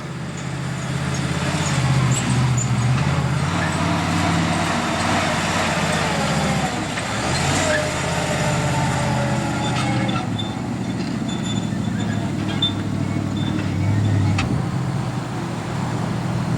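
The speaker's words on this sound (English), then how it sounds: "learning how to drive a monster truck, you just got to spend time riding it around and get used to the size" A monster truck driven around a course over hills gives off a continuous heavy engine rumble and mechanical roar, steady and moderately loud throughout with faint bits of speech.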